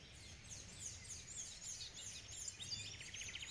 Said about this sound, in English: Oh, did you guys hear the bird?